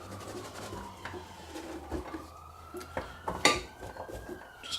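Cubed sweet potatoes and black beans tipped into a pan, soft clattering and tapping of food and utensil against the pan with a faint sizzle, some quiet clinks, fairly low level, no talking.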